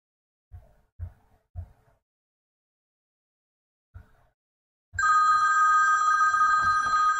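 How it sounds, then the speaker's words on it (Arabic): A mobile phone ringtone bursts in loudly after a few soft knocks and bumps, then rings continuously as a bright, steady electronic tone through to the end. "الموبايل بيردني يا شباب"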